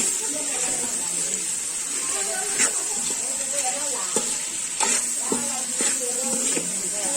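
Tomatoes stirred in a frying pan for mutton biryani, a steady sizzle with scraping spoon strokes against the pan at irregular intervals, close and continuous.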